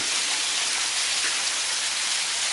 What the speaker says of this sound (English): The sound you hear is the continued fall of sleet.